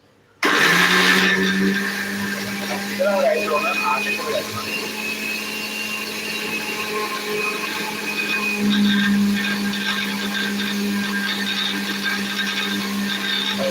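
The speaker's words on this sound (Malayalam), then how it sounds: "ഇനി നമുക്ക് ഇത് മിക്സിയിലേക്ക് ഒന്ന് അരച്ചെടുക്കാം" A mixer grinder starts abruptly and runs with a loud, steady motor whine and grinding rattle, close by and unbroken for the rest.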